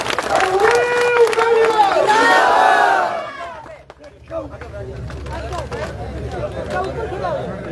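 A crowd at a political rally in Dungarsinghpura welcoming former MLA Sanjeev Beniwal erupts in loud cheering and shouting, mixed with clapping, for about three seconds before dropping to a quieter murmur of voices and noise.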